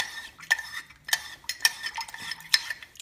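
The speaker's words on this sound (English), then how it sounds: "And then we're just going to mix it up." Food being stirred and mixed in a pan, several distinct scraping and clinking strokes of a utensil against the pan at irregular intervals, close and fairly loud, with no talking.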